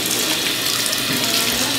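Water pours steadily over a baby for a puja shower, a loud, close, continuous splashing rush with no break and no voices.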